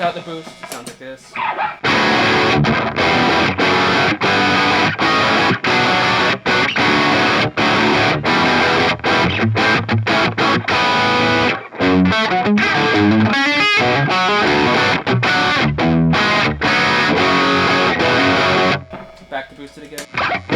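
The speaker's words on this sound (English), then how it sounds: "Without the boost, it sounds like this." Electric guitar through a Bogner Ecstasy amp with the boost switched off, playing a sustained distorted riff that is loud and dense throughout, with short breaks near the start and end.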